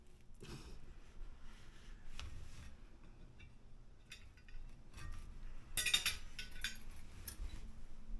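Cutlery clinks and scrapes faintly against a plate while Patti LaBelle's sweet potato pie is cut, small metallic taps scattered through a quiet room with a brief busier cluster partway through.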